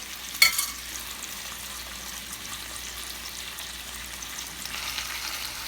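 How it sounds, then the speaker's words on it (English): Korean beef kalbi frying in a pan over medium heat, a steady close sizzle running throughout with a brief clatter near the start and no talk. "It's getting there. I should mention that it's cooking on medium heat."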